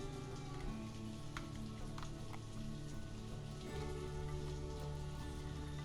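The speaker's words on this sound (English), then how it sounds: "And it's raining." Steady rain in the video game Banished patters continuously, a dense even hiss of drops on a surface with a low droning background, no voices.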